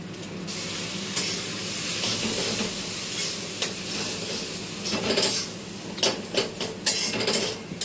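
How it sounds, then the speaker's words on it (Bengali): Tarka, a lentil curry, is stirred in a hot pan with steady sizzling and frying, while a utensil scrapes and taps against the metal in irregular clinks that grow busier toward the end. No voices are heard. "তরকাটা একটুখানি নাড়াচ্ছি"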